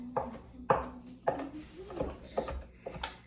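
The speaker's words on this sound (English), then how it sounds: "And we're just gonna kind of chop through it." A knife chops through cooked chicken on a board in a home kitchen, six or so distinct, irregularly spaced thuds, close and moderately loud, with a voice talking between the cuts.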